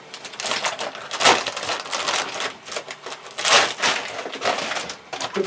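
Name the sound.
cutting open a shrink wrap vacuum bag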